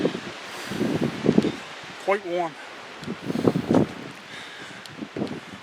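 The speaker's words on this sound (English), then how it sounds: "I'm glad it's windy." Wind gusts rustle and buffet the microphone beneath a person speaking outdoors, with a brief bird-like chirp in the middle.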